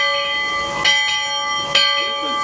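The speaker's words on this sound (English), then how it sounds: "Sound blast bell." A riverboat's bell at Disney World's Magic Kingdom rings out in two sharp, ringing strikes with long metallic sustain over a steady hiss of background machinery.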